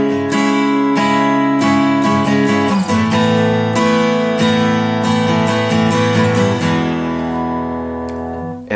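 Solo acoustic guitar strumming the chorus of a song, steady loud down-up chord strokes ringing close and full throughout, easing off slightly at the very end.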